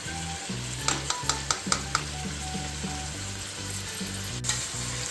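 A spoon stirs an aloo veg pulao mixture of potato, vegetables, ginger-garlic paste and grated coconut in a pressure cooker, giving soft sizzling with a series of scraping, clacking strokes against the pot.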